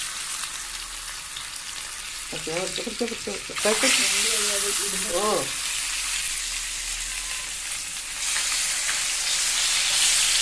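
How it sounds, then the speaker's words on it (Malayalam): Chili-marinated karimeen pearl spot fish frying in hot oil, a loud steady sizzle and crackle filling the whole stretch, with a short exclamation and a brief burst of talk partway through. "ഇനി ഇതൊക്കെ എടുത്ത് പൊരിക്കാൻ പോവുകയാണ് മക്കളെ"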